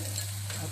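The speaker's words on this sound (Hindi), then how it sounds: "जब तक हमारा प्याज और लहसुन भूज रहा है" Onion and finely chopped garlic frying in a pan, a steady soft sizzle running evenly and close throughout, with a low constant hum beneath.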